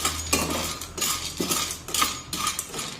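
Sandge roasting in oil in a pan over a low flame, stirred with a metal spoon that clanks and scrapes against the pan in repeated, close bursts over a low background hum.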